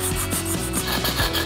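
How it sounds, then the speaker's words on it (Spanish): Sandpaper rubbed back and forth across the bottom of an aluminium drink can, a steady close rasping scrape with a regular stroke rhythm, about eight passes with no talk. "tenemos que pasar la lija por la parte de abajo de nuestra lata"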